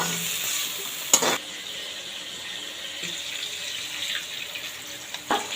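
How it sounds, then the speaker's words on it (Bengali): Prawns frying in a pan with whole cumin, a constant close sizzle with a couple of sharp clanks of a utensil against the metal, and no talk. "চিংড়ি মাছটা প্রথমে ভেজে নিচ্ছি"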